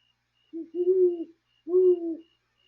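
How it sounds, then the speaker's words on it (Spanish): Two low, hollow hoots from an owl, each a drawn-out call with a short lead-in note, separated by a brief silence against a quiet background. "Escuchamos la voz de ese búho que nos invita a reconocer nuestra propia sabiduría."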